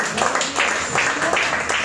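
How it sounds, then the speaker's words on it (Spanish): A church congregation applauds in a dense, continuous burst of clapping, fairly close and lively, over its brief length. "si quiere aplaudirle, apláudale a Cristo"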